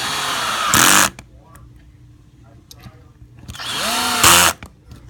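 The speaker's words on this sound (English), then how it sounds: "you might want to screw down 2 of them to secure it in place" A power drill drives upper housing screws in two loud bursts about a second long, separated by a quieter stretch of handling noise and clicks.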